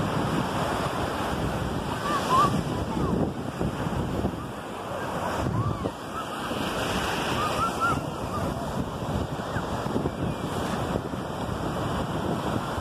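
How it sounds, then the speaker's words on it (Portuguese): Surf breaking on Ingleses beach, a steady broadband wash of waves with wind noise buffeting the microphone, continuous and fairly close, swelling and easing over several seconds with no clear talk. "Olha os ondão, olha os ondão aí."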